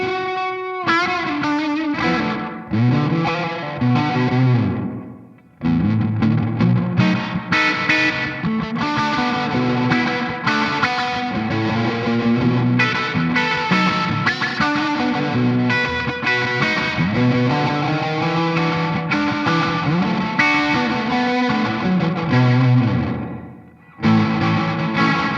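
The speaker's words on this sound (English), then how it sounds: "Should we check out the really short reverb, because it does have quite a long pre-delay." A distorted electric guitar plays continuously through a noise effect pedal with a short reverb and a slapback-style delay. The sound is loud and thick with chords ringing out, and there are brief gaps near the start and the end.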